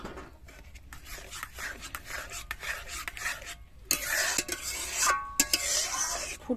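A spoon stirring a thickening green-coloured grape sweet mixture in a pan, with repeated rhythmic scraping and rubbing strokes that grow louder and busier toward the end.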